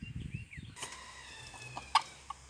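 A barnyard rooster on a poultry farm gives a few short clucks and calls amid faint bird chirps, brief and moderately near.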